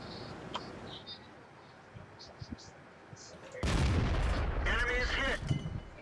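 A tank cannon fires in the World of Tanks video game, one sudden loud blast with a rumbling tail after quiet background sound, faint voices talking around it.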